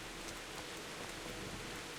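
Rain falls steadily in the medieval town of the video game Kingdom Come: Deliverance, a soft, even hiss of drops lasting a brief moment without any voices.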